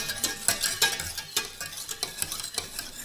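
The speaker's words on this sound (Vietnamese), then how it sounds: "Tiếp tục mình quậy liên tục luôn, sát với đáy nồi" A spoon stirs cake batter continuously in a pot on the stove, scraping close to the bottom, producing steady rhythmic scraping strokes with a light sizzle underneath, close and fairly quiet, with no voices.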